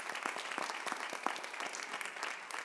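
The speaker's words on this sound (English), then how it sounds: "So a round of applause for our former school board members" An audience at a school district annual electors meeting applauds former school board members, a brief, steady patter of many hands clapping, moderately distant and quiet.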